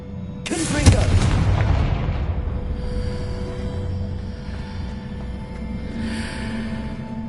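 A Confringo spell blast in the Hogwarts Legacy video game hits with a sudden loud explosive boom, then leaves a long rumbling decay with a faint tonal hum underneath.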